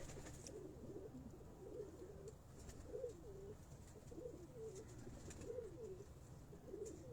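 Pigeons coo on a rooftop, soft repeated throaty calls in a regular rhythm over low background noise, faint and fairly close.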